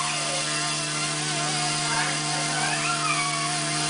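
Axe 100 hybrid collective-pitch RC helicopter on a bench flight test, its rotor whining steadily and loud throughout with a constant high tonal hum, while a voice talks over it.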